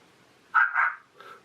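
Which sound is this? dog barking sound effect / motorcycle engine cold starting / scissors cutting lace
dog barking sound effect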